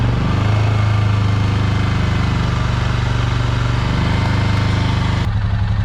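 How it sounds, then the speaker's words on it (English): A Suzuki King Quad ATV engine runs loud and close, with a steady throbbing drone that rises slightly under throttle before dropping off near the end. "Now if we start giving it a little gas"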